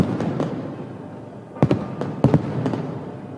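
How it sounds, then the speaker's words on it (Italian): Fireworks crack and pop in sharp bursts over a steady crowd murmur during the Sant'Agata procession in Piazza Duomo, with a few louder double bangs clustered near the end. "salutata da un tripudio di applausi e fuochi d'artificio."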